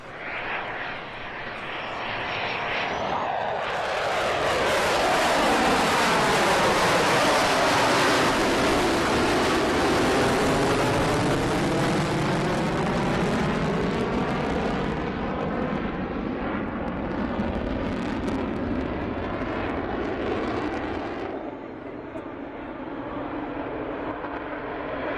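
Loud F-35C fighter jets roar past at an air show, a sustained jet engine rush swelling and sweeping in pitch as they fly by, then easing slightly toward the end.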